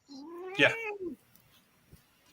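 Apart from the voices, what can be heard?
cat meowing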